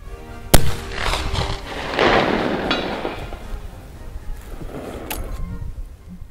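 Two sharp, loud cracks from a Mk I Martini-Henry rifle fired at long range, the first near the start and the second toward the end, each trailed by a rolling outdoor rumble.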